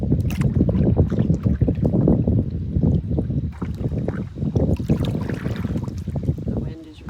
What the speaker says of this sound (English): The wind is really pushing me here.